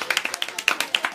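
Scattered clapping from a group of people applauding a student in a classroom, a quick, uneven burst of many close hand claps lasting about a second.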